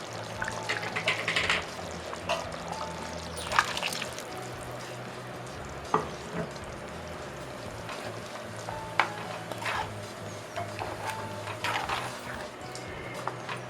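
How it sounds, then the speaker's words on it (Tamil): Ground coconut paste is poured into a simmering mutton curry, bringing a soft wet bubbling and sizzle with a few light clinks and stirring taps, steady and close, with no talk. "நான் தேங்காய் அரைச்சி வச்சுருக்கிறேன், அது ஊற்றி அதுவும் காமிக்கிறேன்."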